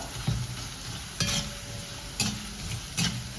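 Banana stem kondattam frying in hot oil makes a constant bubbling sizzle, broken by three or four evenly spaced scraping stirs of a spoon in the pan.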